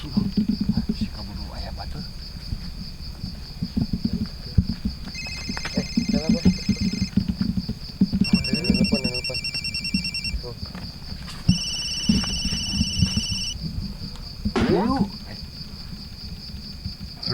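A telephone rings repeatedly with a steady electronic tone, overlaid by other ringing tones, while people talk loudly underneath in an indoor comedy scene.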